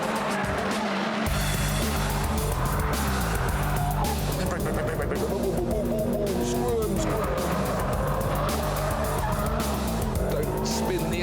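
A Suzuki Swift hot hatch driven flat out around a race track, its engine revving hard through gear changes with repeated tyre squeal and skids, close and loud throughout, with a voice talking over it.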